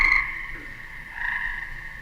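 Frogs croak at a frog pond, a close, loud call with a bright ringing tone that fades and then returns, with no voices.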